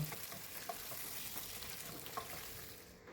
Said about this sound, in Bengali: সেদ্ধ করে রাখা গোল আলু ওর মধ্যে দিয়ে ভালো করে এক দু মিনিট কম আঁচ থেকে মধ্যম আঁচে একটু নাড়াচাড়া করে নেব